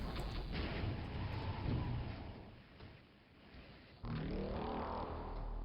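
Gunfire and a grenade in the 16-bit X-Men: The Ravages of Apocalypse game land as loud, crunchy, low-fidelity bursts: a sustained barrage that dips midway, then a sudden heavy blast resumes the din, with no talking.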